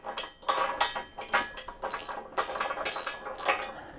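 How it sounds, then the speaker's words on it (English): Hand ratchet cinching long-shank bolts while installing a RockHard 4x4 swing-out tire carrier on a Jeep TJ, heard as uneven bursts of close, crisp clicking that stop and start across the clip with no talk. "And we'll grab the ratchet and go ahead and get these things cinched up in here."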